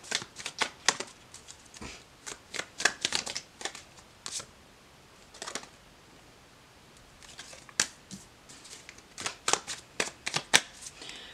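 Tarot cards are shuffled and dealt in a quiet room, with soft riffling flutters and crisp flicks in irregular bursts, close and light, with a lull in the middle and no talk.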